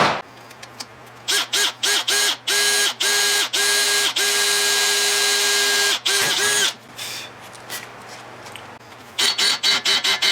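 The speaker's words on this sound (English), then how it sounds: "I guess I can drill it right here just as easy as I can drill it anywhere else." Power drill boring through a metal transmission mount, cutting in repeated bursts of loud whining grind that start and stop, with one long sustained run in the middle and quick short pulses at the end.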